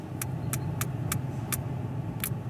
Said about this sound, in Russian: Вот автобус усаживает людей.